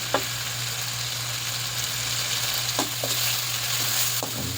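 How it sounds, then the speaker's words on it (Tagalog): Tomatoes sizzle steadily in a hot pan while a utensil stirs them, giving a few soft scraping clicks over the constant frying hiss. "Halo-haloin natin ng konti hanggang maluto ang ating huling yung kamatis."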